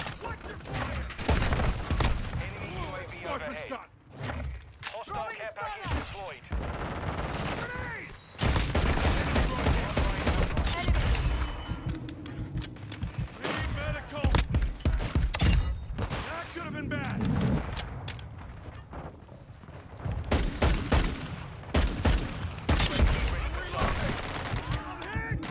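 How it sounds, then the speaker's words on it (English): Rapid pistol gunfire in Call of Duty Modern Warfare 2 on Xbox, crackling in clustered volleys with booming game effects, while a player talks over much of the action. "someone is using pistols"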